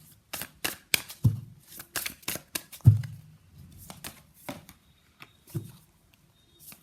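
Tarot cards are shuffled and pulled from the deck in a reading: a quiet, irregular run of crisp papery taps, slaps and riffles, close by and alone.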